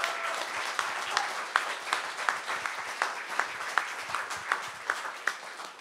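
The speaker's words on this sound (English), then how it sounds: "Can we give another round of applause for Mr. Matthew and Ms. Montgomery?" An audience at an event claps with scattered, fairly faint hands, individual sharp claps standing out in a loose rhythm over a soft room murmur.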